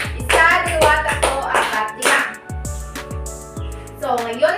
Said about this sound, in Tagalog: bigyan natin ng 5 palakpak si Julia at si Jacob